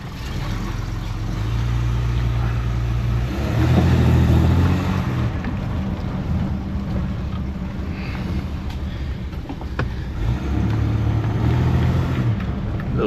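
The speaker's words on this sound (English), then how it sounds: "let's go for a gentle drive. It's actually running really smooth." A 1974 Daimler Sovereign Series 2 car drives gently, its engine a steady low drone from inside the cabin with road rumble, rising slightly in a few swells, and no talk.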